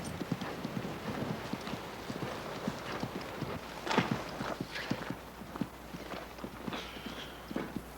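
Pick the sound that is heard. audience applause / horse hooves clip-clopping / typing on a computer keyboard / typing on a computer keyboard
horse hooves clip-clopping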